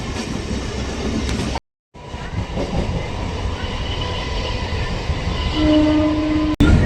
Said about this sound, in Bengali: এই ট্রেনে সোনারপুর পর্যন্ত যাতায়াত করলাম